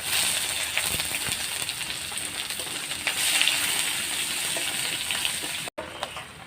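Chopped onion hits hot oil already seasoned with a pinch of asafoetida and nigella seeds, a steady, loud sizzle that keeps going for several seconds before a brief break.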